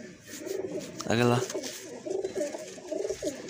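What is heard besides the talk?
pigeons cooing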